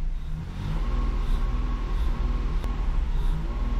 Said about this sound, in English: So the engine is currently completely running on Speeduino.